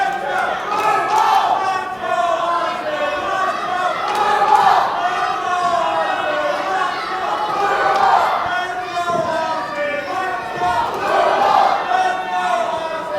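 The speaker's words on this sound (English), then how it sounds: "And again, the crowd with that mixed chant, "Let's go Austin, Blue Bolt."" A crowd chanting at a live independent wrestling event in Sedalia, Missouri, with a rhythmic, loud and continuous roar of many voices that swells repeatedly across the arena.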